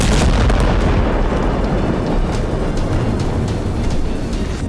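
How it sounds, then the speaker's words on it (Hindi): An IED blast destroying an IDF military vehicle in the West Bank, a loud, dense roar of broadband noise that fills the whole clip and rumbles on without any distinct separate bangs. "आईईडी धमाका कर उड़ा दिया।"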